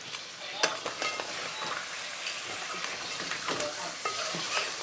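A mixed curry is stirred in a pan over rising heat, a steady sizzle broken by scraping spoon strokes and occasional sharper clinks, close and fairly loud with no talking.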